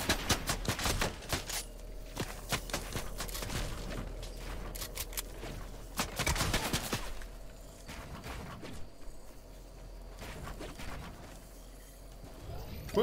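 Gunfire in the Fortnite battle royale game, rapid bursts of sharp shots crackling in clusters across the clip, mixed with someone talking in Portuguese over a steady low hum.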